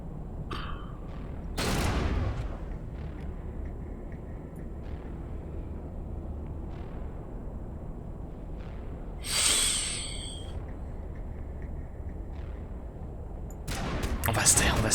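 Sniper gunfire in the Mass Effect Legendary game comes as a few sharp, loud cracks spaced several seconds apart over a low ambient drone, with a voice talking between shots.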